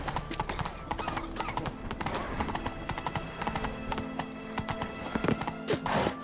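Horse hooves clip-clop in a steady trotting rhythm in The Witcher 3 video game, close and clear, with a brief whinny-like sound near the end.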